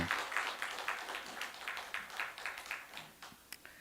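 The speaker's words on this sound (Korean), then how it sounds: "우리 3층 우리 성도님들을 여러분 우리 격려의 박수 한번 하도록 하겠습니다" A church congregation applauds during a Sunday service, a light, fairly distant patter of many hands clapping in an uneven rhythm that gradually thins out, with no talk over it.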